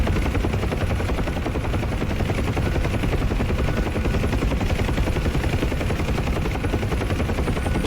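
Huey helicopter in the DCS flight simulator heard from the cockpit as a steady, loud rotor thump and turbine drone, continuous and unchanging throughout, with no voices.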